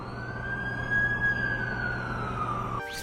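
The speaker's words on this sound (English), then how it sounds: "That's the ambulance I called." An ambulance siren in the video game The Amazing Spider-Man 2 holds a steady wailing tone over low engine rumble, loud and continuous, until it breaks off abruptly near the end.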